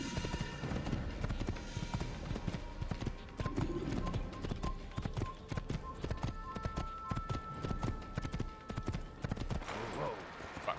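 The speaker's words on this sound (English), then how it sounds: "I'm riding a fucking horse" Horse hooves clip-clop steadily at a trot in The Legend of Zelda, a continuous rhythmic patter of game sound effects, close and fairly even throughout with no talk.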